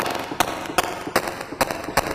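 A drum loop from Battery 4 run through a lo-fi effect, crunchy and gritty, with sharp hits landing at a steady pace, played alone at moderate level.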